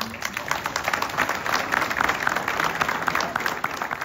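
Applause from the audience at a town New Year's greetings ceremony in Ploudaniel, sustained crowd clapping with a fairly even rhythm and moderate loudness.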